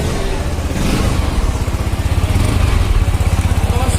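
A Yamaha R15 V4 motorcycle engine revs loudly and close up in a showroom, a throbbing, rapidly pulsing exhaust note that builds and holds steady.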